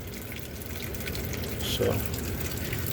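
Water draining out of a Richmond/Rheem gas water heater tank, a steady trickling and splashing flow with a brief gurgle, heard under a voice.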